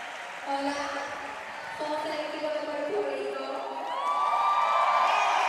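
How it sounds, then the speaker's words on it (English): A large crowd cheers and whoops for Team Puerto Rico during the team parade at the 2025 Roller Derby World Cup, a dense roar with shouting voices that builds louder toward the end. "Huge cheer for Puerto Rico."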